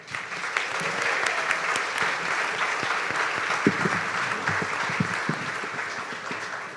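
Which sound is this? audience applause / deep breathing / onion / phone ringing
audience applause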